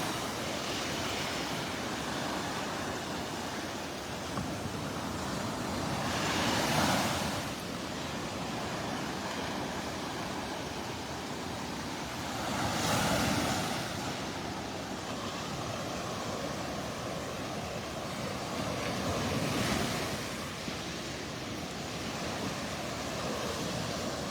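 Ocean surf at Delnor-Wiggins beach on a morning walk: a steady wash of waves with three swelling breakers rolling in roughly every six to seven seconds, loud and close, with no voices.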